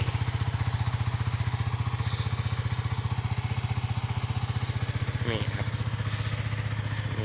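A small engine idles steadily while warming up, a close, even low-pitched chug that runs unbroken throughout, with a faint brief sound rising over it near the end.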